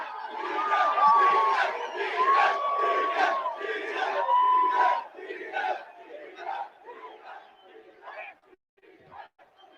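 A large crowd at a UFC 263 press conference, Adesanya vs. Vettori 2, cheers, whoops and chants loudly near the start, then fades into scattered calls and chatter.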